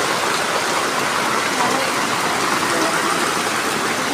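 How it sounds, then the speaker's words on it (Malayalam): Heavy rain pours in a dense, constant hiss that stays loud and even from start to finish, with no pauses or distinct drops standing out. "ഭയങ്കര മഴ പെയ്യുക. തുള്ളിക്ക് ഒരു കുടം വെച്ച് പെയ്യുക."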